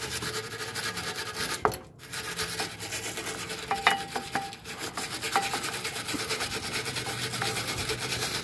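A brake part from a 2000 Lincoln Navigator is scrubbed with a brush after spraying, producing close, continuous rasping strokes with a brief pause partway through.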